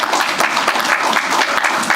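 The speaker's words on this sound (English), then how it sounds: "I'd like us to give him a special applause" At a homage ceremony honouring the memory of Fidel Castro, the audience breaks into dense, continuous applause, with many hands clapping loudly and evenly throughout.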